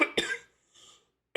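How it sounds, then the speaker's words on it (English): A few short, sharp coughs close to the microphone, two in quick succession, a faint breathy sound, then another burst, with no talking in between. "excuse me, I got a cough"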